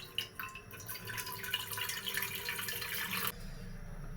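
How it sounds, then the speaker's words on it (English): Water runs steadily into a cooking pot on the fire for about three seconds, a bright splashing rush that then stops abruptly, leaving quiet room noise. "I'll add water."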